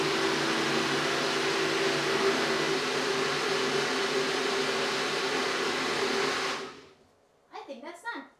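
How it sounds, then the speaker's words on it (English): A NutriBullet blender runs loud and steady for about six and a half seconds, then cuts off abruptly, followed by a short burst of speech. "the NutriBullet makes more noise"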